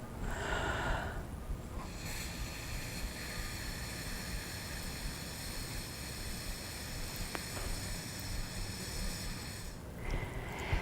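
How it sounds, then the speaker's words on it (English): A long, steady inhalation drawn through a straw held at a flute-style embouchure, a continuous airy breath lasting several seconds, close and fairly loud, with a brief pause near the start and end. "Deep breath in."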